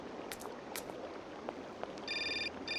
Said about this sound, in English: Oh no, I've got a flaming phone call.